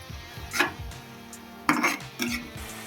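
Brinjal and meal maker curry is mixed in a metal pan, with a few close spoon clanks and scrapes in short bursts over a quiet background.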